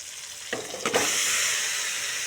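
Taro stolons drop into hot oil with spices and sizzle loudly, after a couple of brief stirring clatters, and the steady frying hiss then carries on close and alone.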